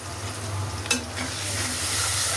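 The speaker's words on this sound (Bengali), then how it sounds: "ভাজা ভাজা করে নেই তেলের মধ্যে।" Garlic, ginger and onion paste fries in hot oil with a steady close sizzle, stirred once with a brief scrape of the spoon, the sizzle growing slightly louder toward the end.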